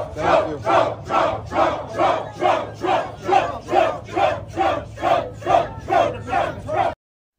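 A large outdoor crowd in Philadelphia cheers and chants for President Trump, loud rhythmic roars rising and falling in steady repeated bursts for about seven seconds before cutting off abruptly.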